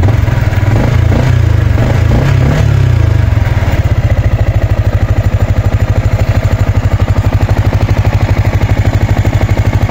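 A Honda Sniper 155 motorcycle engine with a worn timing chain tensioner runs close and loud, settling into a rapid, steady mechanical clatter and ticking rhythm after a few seconds.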